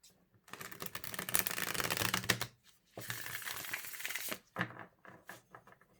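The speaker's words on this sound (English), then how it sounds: "do you ever have like cards that shuffle like a dream? This deck, oh my God, it shuffles like a dream." A tarot card deck is shuffled up close: two long, dense riffling bursts are followed by a few short flicks and taps, with no talking.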